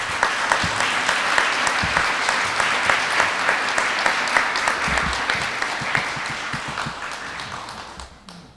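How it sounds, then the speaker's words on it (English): Dinner guests at a mentor appreciation awards event clap for standing honorees, a full steady round of applause with some sharp near claps, fading toward the end. "give you one more round of applause"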